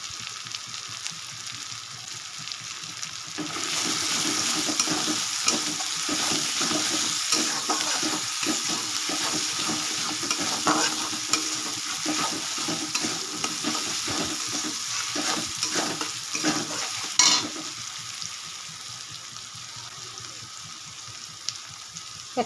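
Lentil kofta mixture with garlic paste frying and being stirred in a pan, a soft continuous sizzle broken by repeated scraping strokes of the spoon, with a brief splash of tap water near the end.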